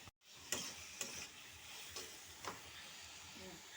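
Egg omelet curry sautéed in a pan with ground spices and coriander powder, giving a steady soft sizzle with a few sharp spoon scrapes as it is stirred.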